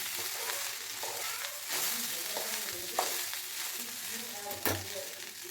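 Lemon rice with salt and lemon juice stirred in a pan on the stove, a close soft sizzle under repeated scraping and stirring strokes with a couple of sharper clanks, no talking.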